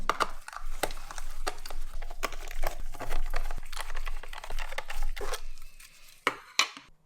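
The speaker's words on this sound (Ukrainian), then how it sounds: "Так, давайте зараз знімемо цю кришечку." Plastic body shell being pried and lifted off a radio-controlled BMW drift car, giving a run of close crinkly plastic clicks, scrapes and sharp snaps with brief pauses, no voices.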